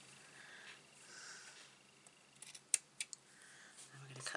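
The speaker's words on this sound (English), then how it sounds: "I'm going to grab my scissors. I'm going to tidy that end up now because it's all frayed." Scissors snipping the frayed end of a ribbon while making a patterned-paper gift bag, a few sharp close snips in quick succession under faint background noise.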